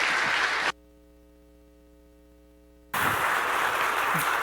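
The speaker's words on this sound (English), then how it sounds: "let's give him a round of applause as Kurt comes to join us" An audience applauds at a talk or event, with a dense burst of clapping that cuts off abruptly, leaves a quiet stretch of electrical hum, then resumes loudly.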